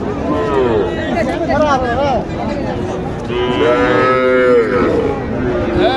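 At a cattle market, a cow lets out several long, loud moos close by, rising and falling over a murmur of people talking and market chatter.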